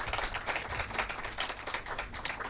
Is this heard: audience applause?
yes